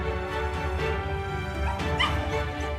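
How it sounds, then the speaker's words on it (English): An agitated dog outside an emergency room, held back by people as its owner is taken inside, barks and whimpers in rising, pleading yips over a busy, noisy background. "People had to restrain this agitated dog due to its concern, as its owner was being taken to the emergency room."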